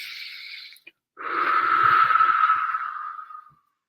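A long, deep inhalation during a laughter yoga session, broadband and breathy, swelling loud and close for about two seconds after a brief earlier breath, then fading out.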